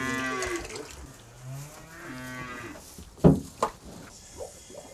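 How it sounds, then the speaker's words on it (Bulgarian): Cattle in winter stalls moo several times in long, deep, close calls, followed by a couple of sharp knocks like hooves or wood. "И ако преценят, че не е прекалено, да измучат по няколко пъти."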